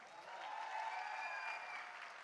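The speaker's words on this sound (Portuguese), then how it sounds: "O estudante venezuelano" Audience applause at a university ceremony marking the resumption of construction at UNILA in Foz do Iguaçu, honoring a Venezuelan student; steady, moderately distant clapping from a crowd, brief and continuous.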